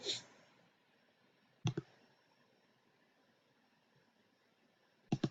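Computer mouse clicking close up in a quiet room, with three brief, crisp double clicks spread out among long pauses.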